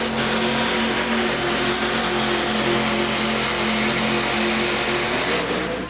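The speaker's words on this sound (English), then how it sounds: "That blown Chevrolet motor's working" A powerful supercharged Chevrolet engine in a monster truck roars at high revs, a loud steady drone with a throaty hum that holds throughout before easing slightly at the end, at a 1987 USHRA event in Pittsburgh.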